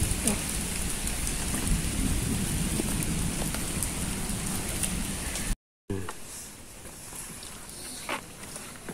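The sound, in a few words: rain and thunder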